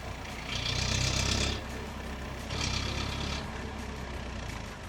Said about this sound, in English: So we're now driving the BJ40.